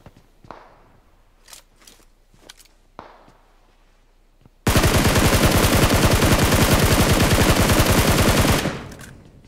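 Video game gunfire from a solo-versus-squad battle royale match: a few scattered single shots and footsteps, then a loud sustained automatic burst lasting about four seconds before tapering off.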